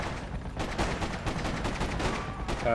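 Gunfire rattles through the Freedom Fighters video game, dense rapid shots blending into a continuous loud fusillade with no pause across the short stretch.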